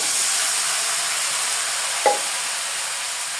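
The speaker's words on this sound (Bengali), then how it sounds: "নাড়াচাড়া দিয়ে দিই" Curry stirred in a hot pan with onions and spices, a steady close sizzle and hiss running throughout, broken by one brief scrape of the spoon near the middle.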